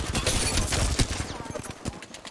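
Dense bursts of gunfire in the Apex Legends battle royale game, rapid overlapping shots that are loud and close and then thin out, with no talk.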